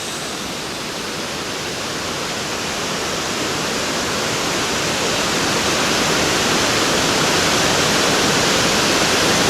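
Tellico River rushing under a bridge, a loud, steady broadband roar of flowing water that grows slightly louder throughout, with no voices.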